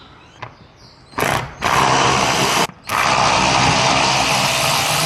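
A motorized ratchet spins out 10 mm bolts under the fender of a 2025 Toyota Tacoma TRD Pro during a grille install. It makes a loud, close, continuous whirring buzz in two long bursts, split by a short gap.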